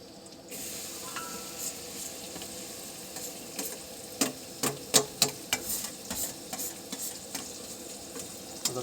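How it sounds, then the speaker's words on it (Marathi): Onion frying in oil for a vegetable dish, cooked outdoors, with quiet sizzling that builds into sharper clicks and scrapes from stirring in the second half; no talking. "आता कांदा परतो तर 5 मिनिटं आपण मस्त थांबू."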